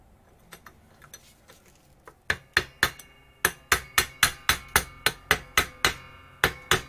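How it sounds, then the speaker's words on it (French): A small hammer taps on a tire part during work with a Michelin jack for SUVs and 4x4s. The blows start as a few sparse taps, then fall into a steady, sharp, close series of about a dozen strikes. "On a un petit marteau."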